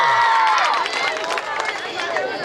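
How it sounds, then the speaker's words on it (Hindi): Audience clapping at a winter carnival gathering. Scattered, moderately loud applause and crowd murmur follow a speaking voice that trails off at the start. "तालियां बजाएं"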